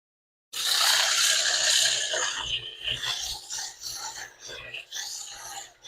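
Sandpaper rubbing over a workpiece in a workshop, a close, harsh rasping scrape that starts abruptly and continues in uneven strokes.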